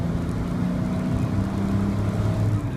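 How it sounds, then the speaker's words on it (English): A Chevrolet Corvair Greenbrier accelerates hard at full throttle in second gear, its engine droning loud and steady from start to finish, with no voices. "Let the clutch out hard. Full throttle. Into second. Wind it out."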